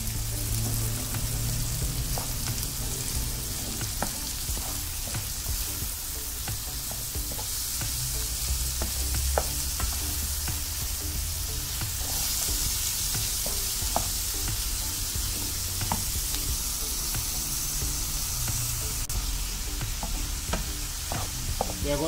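Green pepper and tomato sizzling and frying steadily in a pan for a ground-beef sandwich filling, with scraping and stirring strokes throughout, close and continuous with no talking.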